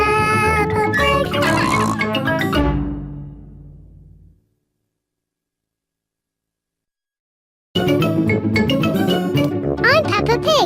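Peppa Pig characters give actor-voiced oinking snorts amid lively cartoon sound and speech. The sound fades out into several seconds of silence, then returns abruptly at full loudness.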